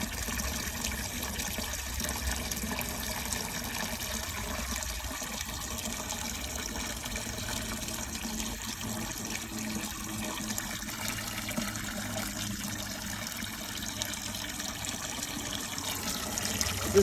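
A garden hose left running into an old drain in a barn, giving a steady broadband wash of flowing and trickling water that stays even and continuous throughout, with no voices.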